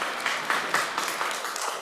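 An audience at a public consultation meeting claps, a fairly dense burst of many hands with slight rhythmic surges, steady and moderately loud, with no one talking over it.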